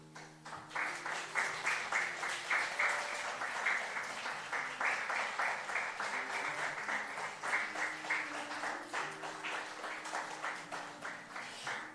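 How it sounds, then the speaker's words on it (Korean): Korean church congregation applauding the elders during a Sunday service gift presentation, sustained rhythmic clapping in unison that lasts about twelve seconds with soft keyboard tones underneath. "감사의 마음을 담아 우리 한번 박수를 보내주시면 감사하겠습니다"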